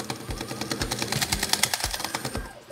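A reaction-wheel balancing cube's motor spinning hard near its top speed, a rapid mechanical whir with rhythmic thumping pulses and buzzing overtones, close and steady.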